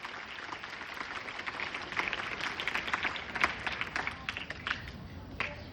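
School students at an event clap together in a dense, steady round of applause, loud and continuous from start to finish, with no speech over it.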